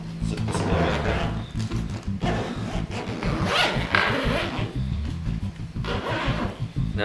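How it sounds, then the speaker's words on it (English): A zipper is pulled closed on a Saddleman TS3200DE Deluxe ballistic nylon motorcycle tail bag, a continuous close rasping run with a few uneven pauses and tugs. "Zip this guy down."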